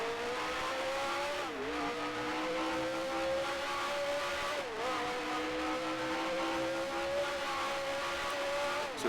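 A vintage race car in Grand Prix Legends revs hard and steadily, its engine note climbing through gears with two brief dips at the shifts, loud and continuous with no talk.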